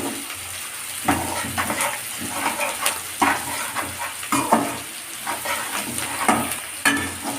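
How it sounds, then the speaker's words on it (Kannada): Capsicum fries in a pan and gets stirred, a steady loud sizzle broken by repeated scraping strokes of a spoon against the pan every second or so, close up with no voices. "ಈಗ ಕ್ಯಾಪ್ಸಿಕಮ್ ಫ್ರೈ ಮಾಡೋಣ."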